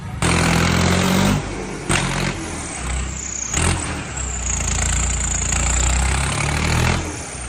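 A farm tractor engine runs loud and close for the whole stretch, a steady low diesel rumble that dips and swells briefly as the throttle shifts, with no voices.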